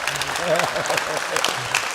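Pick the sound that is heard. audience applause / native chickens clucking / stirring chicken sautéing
audience applause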